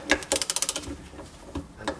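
A socket tool ratchets on a bolt inside a Toyota Camry 2.2 engine, giving a quick run of about eight close, sharp clicks followed by a few scattered metallic ticks, near and fairly loud.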